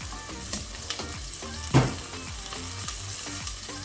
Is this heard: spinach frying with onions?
yes